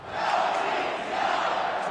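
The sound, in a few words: hockey fans chanting in an arena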